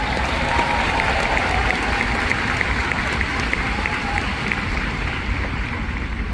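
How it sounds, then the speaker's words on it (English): A large seminar crowd applauds a top sales unit at a Mary Kay event, a thick, continuous roar of clapping at full strength throughout, with some cheering mixed into the wash of hands. "Would you give our unit a round of applause?"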